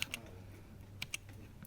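A few sharp, quiet clicks of keys pressed on a custom STM32-based keyboard, two quick taps near the start and another pair about a second later, close and isolated with no voices.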